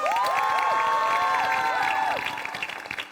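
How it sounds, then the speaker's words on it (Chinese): A studio audience at a televised debate show applauds and cheers to welcome a debater, with dense clapping and whoops under bright musical tones before the noise tapers off. "来欢迎鼓掌"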